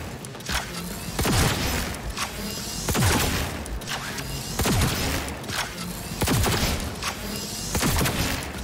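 Rifle gunfire in the video game Cyberpunk 2077, a sustained run of loud, close rapid shots with sharp repeated bursts and brief pauses between volleys.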